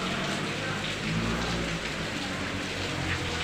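Steady, dense rain hisses throughout, loud and close, with a low rumble underneath and no clear voices.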